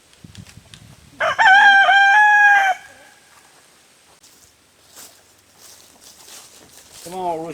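A backyard rooster by a new chicken coop and run lets out one loud, close crow, surrounded by softer clucking from hens and quiet handling sounds, with a person talking briefly.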